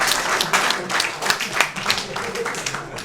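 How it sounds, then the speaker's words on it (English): An audience at a school energy quiz claps in a burst of applause, many hands patting loudly and close together for a few seconds. "Let's give them a 10 points and a big round of applause."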